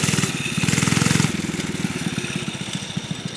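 A small mini bike engine revs and putters steadily as it is ridden doing wheelies behind a building, a buzzy pulsing drone that eases slightly partway through, close and continuous with no talk.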